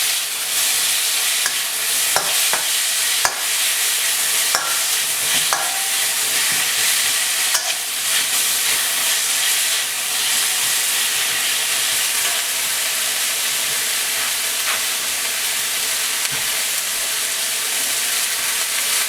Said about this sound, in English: you can add just a little bit of water to steam them a bit